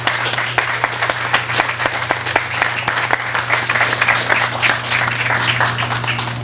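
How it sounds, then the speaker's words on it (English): Audience applause at a public authority meeting, steady dense clapping from a roomful of people with sharp individual claps standing out, loud and continuous, over a low steady hum. "I think a hands of applause to the staff and to the authority members"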